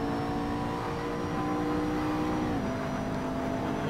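A car engine drones steadily at full throttle, heard from inside the vehicle on a track, a sustained hum with a slight pitch drop midway, continuous and fairly loud.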